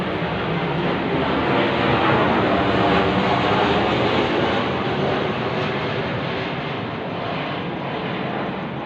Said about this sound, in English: there's a plane going over too. That is a military plane